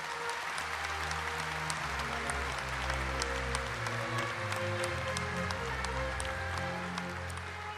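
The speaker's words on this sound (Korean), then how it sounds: "나라를 위해 싸우신 독립유공자 여러분께 다시 한번 뜨거운 박수 부탁드립니다" Warm applause fills a formal national ceremony marking Korea's 80th Liberation Day, honoring independence fighters after a government awards presentation; steady, dense clapping from a large crowd, with a low musical or organ-like tone sustained beneath it throughout.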